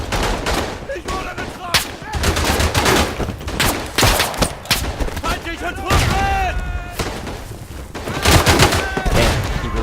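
Sustained machine gun fire in the World War I shooter Verdun rattles in dense, rapid bursts alongside scattered rifle shots and distant blasts, loud and continuous throughout, with a voice talking underneath.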